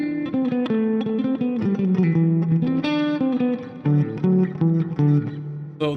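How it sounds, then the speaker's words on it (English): An electric guitar plays a sweep-picked chord passage from a song intro, with fast cascading picked notes flowing over changing chords. The playing is close, steady and clear, with no voices. "So this first part here is called sweep picking"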